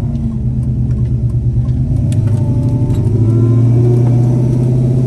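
A tuned Pontiac G8 with a failing 4L60 transmission, driven as a manual: a loud, close, continuous engine drone rises in pitch as the car accelerates under steady road rumble.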